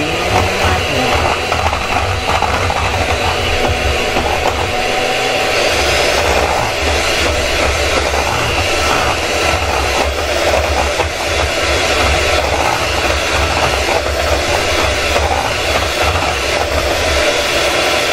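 Electric mixer beating chocolate cake batter, a loud continuous motorized whir that holds steady and close throughout with slight shifts in pitch as the beaters move.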